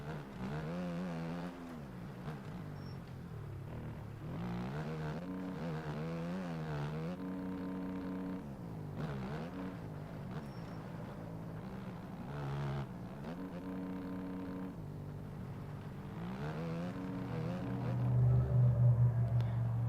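A motocross bike engine from the video game MX Bikes drones and revs steadily, its pitch rising and falling in repeated waves before a louder surge near the end.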